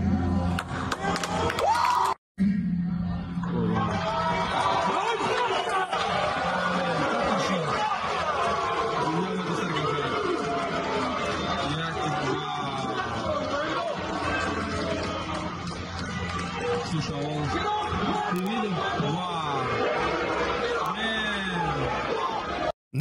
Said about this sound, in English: Notice how the crowd is just booing John Liddell because what he's doing is uncalled for.